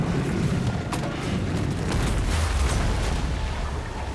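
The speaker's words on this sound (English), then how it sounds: "I like that the legs explode." Monster legs bursting apart in Death Stranding 2 on Brutal difficulty, a dense rumbling roar of booms and crackling blasts that holds steady and loud for the whole stretch, with no talking.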